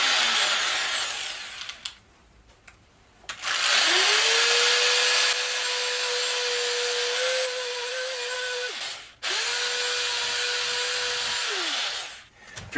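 Power sander with a 60 grit Velcro sanding disc grinding steadily in two long loud bursts, with a brief pause between them and a quieter stretch of handling noise beforehand.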